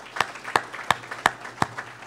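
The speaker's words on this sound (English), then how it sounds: "I think a special round of applause." A few separate claps ring out at a chamber of commerce legislative wrap-up, five sharp hand claps spaced about a third of a second apart, fairly close and clear with no talking.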